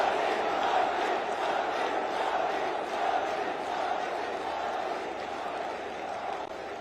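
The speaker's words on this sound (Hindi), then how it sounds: "एक बार दोनों हाथ ऊपर उठा के तालियां बजा के स्वागत कीजिए मोदी जी का" A large crowd roars and cheers to welcome Prime Minister Narendra Modi at a public event, a continuous loud distant wall of voices and clapping.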